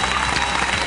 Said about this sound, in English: I just thought a little bit of spontaneous applause might be nice.